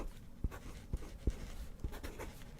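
Pen strokes writing the name Pepsi Max on paper, a few quiet separate scratches and taps spaced about half a second apart, close and soft, without talk.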